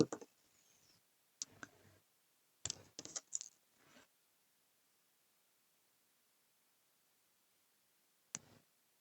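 Scissors cutting craft material for dangles, heard as a few sharp, close snips and clicks in short clusters, the first few seconds busy and then a long quiet gap before one last snip.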